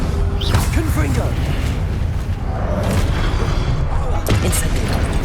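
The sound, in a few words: Confringo spell blast, Hogwarts Legacy video game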